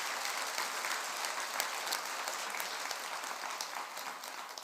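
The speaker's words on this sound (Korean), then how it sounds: "큰 박수로 격려해 주시기 바랍니다" A congregation at a Korean Buddhist dharma assembly applauds warmly, with a broad, even wash of many hands clapping that holds steady at moderate loudness throughout.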